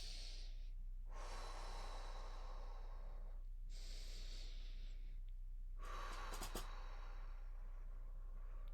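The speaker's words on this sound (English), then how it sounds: "Breathe in through the nose." Slow, deliberate nasal inhalations during a guided breathing and throat-opening exercise, three long airy breaths alternating with pauses, close and soft with no talking.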